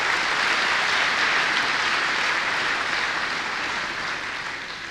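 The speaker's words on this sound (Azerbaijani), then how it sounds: "Gəlin Aşıq Ələsgər ruhunu bir möhkəm alqışlayaq burada" An audience at a televised poetry and ashig music program applauds with dense, steady clapping. The applause is loud and continuous, then slowly fades toward the end, with no voices over it.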